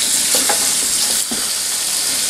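Running water rinses cooked hamburger meat to wash off grease, a steady close hiss and splatter with faint scraping and stirring noises throughout.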